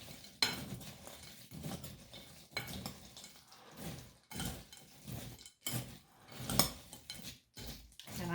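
Chex Mix is stirred with butter in a bowl, the spoon scraping and clinking against the bowl in irregular strokes, quiet and close with no talking.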